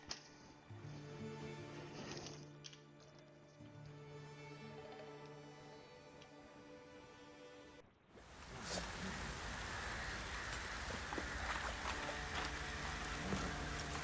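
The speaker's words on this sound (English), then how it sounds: "Midges were biting on account of this downpour." Heavy rain downpour in The Witcher 3, a quiet hiss that swells into a dense, steady roar of falling rain partway through, preceded by soft ambient game tones.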